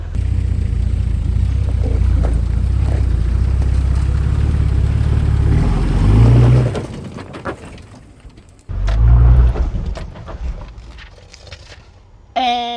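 A four-wheel drive with a TD42 diesel engine and front locker engaged labours up a steep rock step, a loud low rumbling drone that surges, drops off abruptly as it stalls, then roars back briefly before fading.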